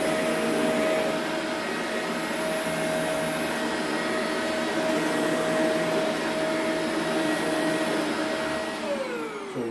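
A Shark vacuum cleaner runs steadily on carpet, a loud continuous motor whine with a sustained tone and broadband suction noise for the whole stretch, dropping slightly in pitch near the end.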